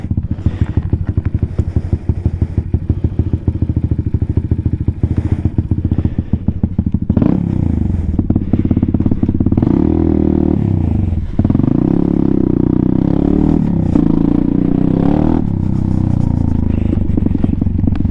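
A Venom Thunder 125cc motorcycle with a newly installed Nibbi carburetor idles loudly up close with a fast, lumpy single-cylinder putter, then is revved in a few rising and falling bursts.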